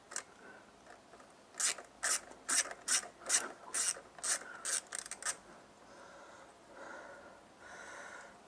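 A wrench or tool rasping in a quick series of about ten scraping strokes while loosening a fitting on a Peugeot 309 diesel injection pump, close and moderately loud, then fading into softer rubbing.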